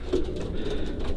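Breeding pigeons in a loft coo softly and close by, a short low burble over quiet background.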